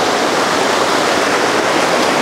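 Loud, constant rush of a narrow, steep mountain stream pouring over a rocky bed, a dense broadband roar close by with no pauses or voices.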